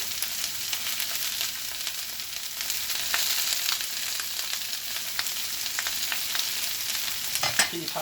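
Steady hissing sizzle of mixed vegetables stir-frying in a hot pan, with occasional clinks and scrapes of stirring, close by and without any talking.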